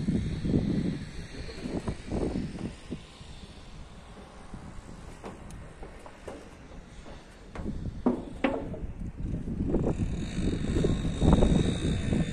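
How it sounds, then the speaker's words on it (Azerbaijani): A camera drone hovers over a rooftop construction site in Nardaran, giving a steady propeller buzz with a low rumble that swells and fades slightly, with a few brief knocks in the background. "Bu da bizim drone'umuz."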